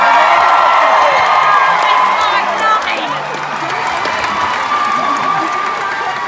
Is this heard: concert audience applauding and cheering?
yes